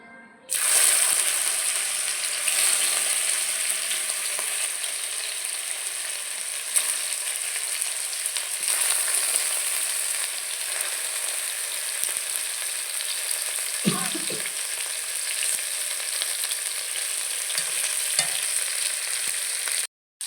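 Fatty pangas fish pieces frying in a kadai of hot oil, a loud, continuous bright hiss that starts abruptly and holds steady, with faint clinks and a brief utensil knock partway through.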